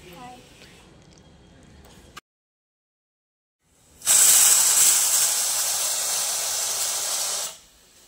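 A pressure cooker cooking chole lets out a loud, sharp hiss of steam for about three seconds before cutting off. A quieter stretch of talk and kitchen sound comes first, followed by a brief silence.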